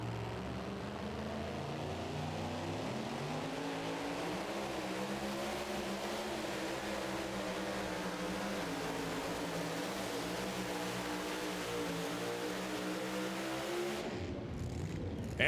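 A 2WD pulling truck roars at full throttle through a pull, a loud continuous engine drone whose pitch slowly rises and shifts, cutting off abruptly near the end.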